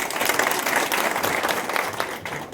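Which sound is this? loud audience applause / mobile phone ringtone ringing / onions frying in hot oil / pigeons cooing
loud audience applause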